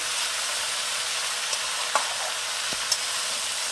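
Jujube pickle cooks in a pan with a steady, loud sizzle, and a few faint taps and scrapes mark the stirring. No one speaks.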